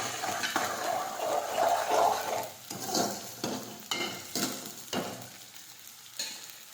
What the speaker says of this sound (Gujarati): સમારેલું લીલું લસણ નાખી દઈશું, ખમણેલું આદું નાખીશું। હવે સાતળી લઈશું।